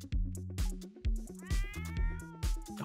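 A cat in The Sims 4 meows several times in quick succession, clear and close, the calls stretching into drawn-out wails with a steady game background beneath.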